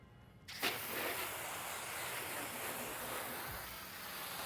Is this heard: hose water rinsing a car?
yes